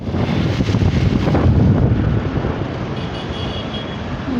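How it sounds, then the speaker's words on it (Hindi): Busy city road traffic in Raipur, heard from inside a moving vehicle: a steady low rumble of engines and wind buffeting, fairly loud and continuous with no talk. "बाय बाय रायपुर के ट्रैफिक सुने रहे हो"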